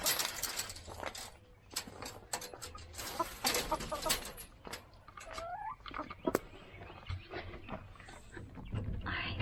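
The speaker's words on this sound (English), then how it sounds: "let's see if Justin has set out the food for the quail" Quail cluck and call at feeding time, a scattered series of sharp nearby chirps and clucks mixed with rustling and handling noises.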